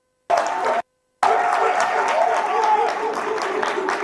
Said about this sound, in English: let's Tato a round of applause, guys.